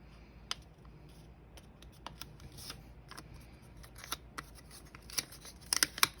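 A paper square being folded in half, heard as faint, crisp crackles and scattered sharp creases that grow denser toward the end, close and quiet with no talking.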